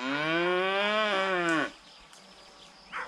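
A cow on a farm gives one long, loud, close moo lasting over a second, followed by quieter outdoor ambience with a faint brief call near the end.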